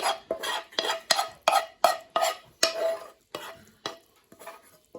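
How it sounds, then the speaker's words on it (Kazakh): Rice stirred together with fried onion and carrot in a pan, a rapid series of distinct scraping, clattering utensil strokes against cookware, close and fairly loud with brief gaps between strokes. "Осыларды жақсылап бір араластырып аламыз."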